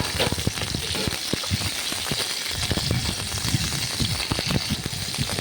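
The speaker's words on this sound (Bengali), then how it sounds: "এখন পটল ভাজা করে নিচ্ছি" Steady crackling sizzle of pointed gourd frying in a hot pan, dense popping throughout with no voices.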